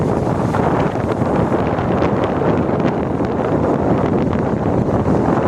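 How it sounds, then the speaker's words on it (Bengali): Strong wind buffets the microphone at a seashore, a loud, constant roar with heavy waves breaking and surging beneath it throughout, no speech. "খুব হাওয়া দিচ্ছে আর দেখো প্রচণ্ড ঢেউ।"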